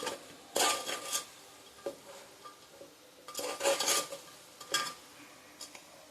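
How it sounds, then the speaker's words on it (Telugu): A spoon stirs chicken pachadi with salt and lemon juice in a bowl, giving close, intermittent scrapes and clinks in short bursts separated by quiet pauses. "ఉప్పు, నిమ్మరసం వేసుకున్న తర్వాత ఇలా అయితే కలుపుకోవాలి."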